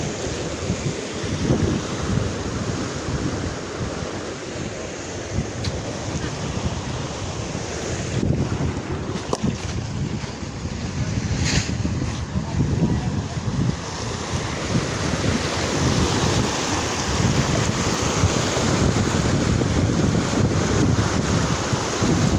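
A rain-swollen stream runs full after a night of rain, a steady broad rushing roar that fills the whole stretch without pause, with occasional gusty buffeting on the microphone.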